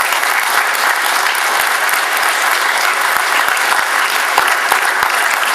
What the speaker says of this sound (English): I think you should kind of applaud them.